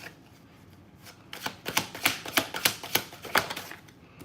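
A deck of tarot cards is shuffled by hand, soft rustling giving way to a run of crisp, rapid riffling snaps, close and fairly quiet, with no talking.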